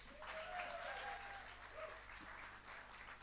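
An audience at a live music venue applauds to welcome a singer to the stage, a fairly quiet, even patter of clapping with a few faint cheers, heard from a distance.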